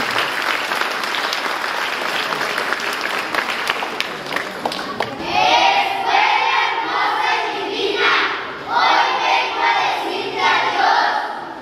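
Loud crowd applause fills a primary school graduation ceremony, then gives way to children reciting together in chorus.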